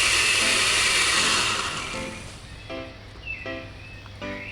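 Blender chopping pineapple peels, first a loud continuous roaring whir, then pulsed in short on-off bursts with pauses between them as the motor starts and stops.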